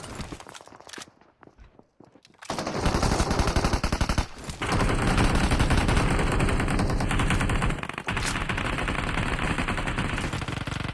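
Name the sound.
gunfire from a gun in the video game BGMI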